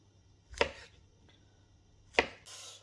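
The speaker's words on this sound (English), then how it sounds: "I'm going to quarter them, just so they don't break up" A knife quarters mushrooms on a chopping board, two crisp, distinct chops about a second and a half apart in a quiet kitchen, with a faint tap between them.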